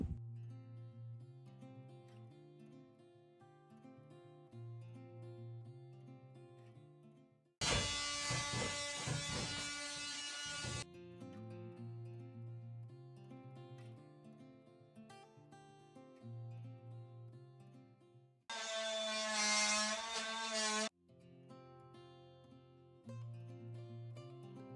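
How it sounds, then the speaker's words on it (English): Oscillating multi-tool scraping up the floor of a school bus being converted, heard as two loud, harsh buzzing bursts of a few seconds each, separated by quieter background music. "I think the multi-tool is a good addition to the scraper."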